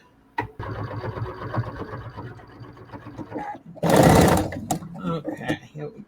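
A sewing machine top stitching fabric runs in a steady, loud mechanical whir for several seconds, with a louder burst near the end and someone talking over it.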